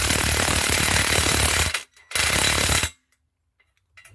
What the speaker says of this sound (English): you gotta be very careful when you use these power tools to do these type of things